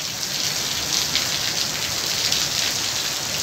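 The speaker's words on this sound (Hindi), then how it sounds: "देखिए कितनी तेज़ बारिश हो रही है" Heavy rain pours down steadily, a dense, loud hiss of drops hitting surfaces with no pauses and no voices.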